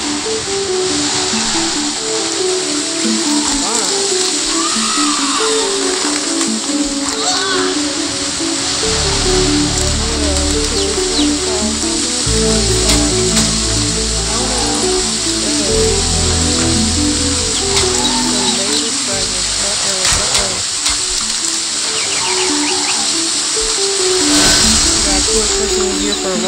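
Waterfall in the Hungry Dragon video game, a continuous loud rushing hiss of water alongside game music and effects, with bursts of low rumbling in the middle stretch.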